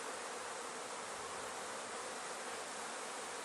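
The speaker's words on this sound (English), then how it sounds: "There are bees on the inside of this." Honey bees buzz densely inside a honey box of a hive, producing a continuous, even hiss-like drone of many wings at close range with no other sounds.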